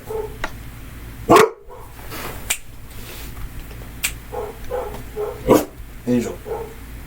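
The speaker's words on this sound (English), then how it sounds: "Sorry about the doggy barking," A dog barks several times in short sharp bursts, loud and close, while someone talks intermittently over a steady indoor hum.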